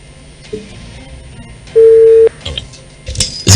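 Telephone line fault producing a single steady busy-signal tone of about half a second, rising over low background noise, followed by clicks and line crackle.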